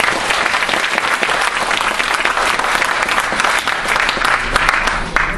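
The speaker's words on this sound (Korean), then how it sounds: "우리 이민복 선생의 건투를 빌면서 한 번 더 박수 보내주시죠." Loud, sustained applause from a lecture audience, dense steady clapping filling the whole stretch without pause.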